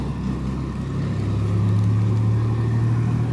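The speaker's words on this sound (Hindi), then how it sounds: "यहाँ बस वगैरह सब सवारी उतरते हैं, गाड़ी लगे रहते हैं" A vehicle engine idles and hums at a bus stand where buses drop off passengers. The low, steady drone holds close by and swells slightly midway, with no talking over it.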